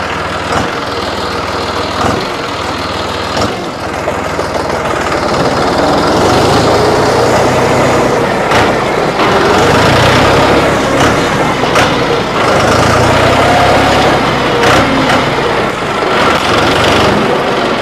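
A 2012 John Deere 5055D tractor engine runs loud and close, a steady diesel drone with brief clunks and rattles from shifting, alone with no talk.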